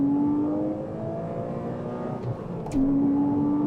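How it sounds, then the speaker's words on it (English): A mid-engine Porsche Cayman R drones and builds under acceleration, a steady intake hum from behind the cabin rising in pitch, heard from inside the car. "you have so much intake noise from the back here"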